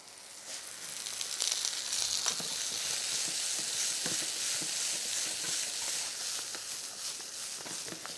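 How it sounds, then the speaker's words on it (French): Apples and raisins cooking in a hot pan, a continuous close crackling sizzle with light irregular taps and scrapes of stirring running throughout, no voices over it. "on mélange bien, on laisse cuire pendant 2 minutes"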